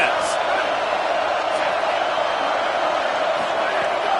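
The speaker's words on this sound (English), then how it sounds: "Big third down as the crowd gets behind this defense." A stadium crowd at a UCLA vs Oregon college football game roars in a dense, sustained wash of cheering noise on a big third down, steady and loud throughout, with an announcer talking over it.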